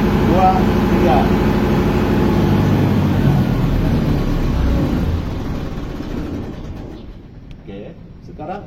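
A diesel genset engine rumbles steadily at a power plant, then is switched off and winds down into quiet, with a person talking over the running engine.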